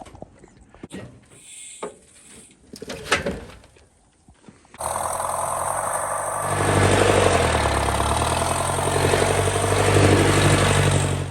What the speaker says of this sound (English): set the cube down right here and drive the tractor home